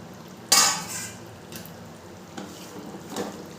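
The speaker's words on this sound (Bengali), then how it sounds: "গরম মশলার গুঁড়োটা দিয়ে একটু ভালো করে নেড়ে চেড়ে দেবো" Egg curry with garam masala powder stirred in a pan, a sharp spoon scrape against metal followed by a few softer clinks and scrapes over a low sizzle, close and without speech.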